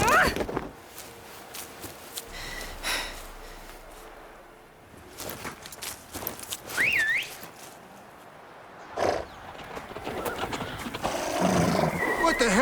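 Horses whinny and hooves clop in a medieval palace courtyard in The Witcher 3: Wild Hunt, Blood and Wine; a rising neigh stands out midway amid scattered movement and background ambience, with louder clatter toward the end.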